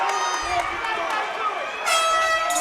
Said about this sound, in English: The fans here at AKA 36 letting out a loud cheer for these two young competitors